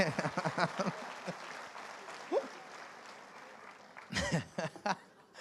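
Applause from a church congregation during a sermon, with steady clapping under a man's speech that swells into a louder burst of clapping and voices near the end.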